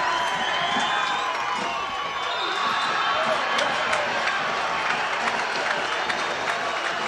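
A stadium crowd cheers and applauds at a San Diego Loyal SC versus Orange County SC soccer match, a continuous dense roar of voices and clapping from a distance that holds steady throughout.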